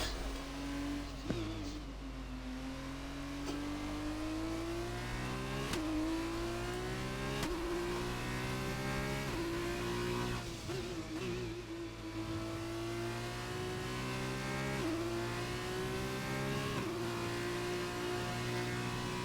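F2 race cars in a racing video game, engines revving steadily with rising and falling pitch and occasional gear shifts, loud and continuous throughout, with no speech over it.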